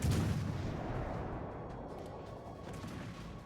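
Warship main-battery artillery fire in World of Warships Legends: a heavy boom at the start followed by a long rumbling roar that slowly fades, loud and alone.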